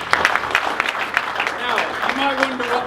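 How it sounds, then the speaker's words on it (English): Audience at a TEDx workshop claps in a scattered round of applause, heard under someone speaking over it throughout. "Give him a round of applause."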